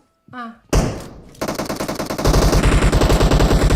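Gunfire in the PUBG Mobile video game: after a brief voice, a loud single shot is followed by rapid automatic bursts that turn into a steady, dense stream of shots.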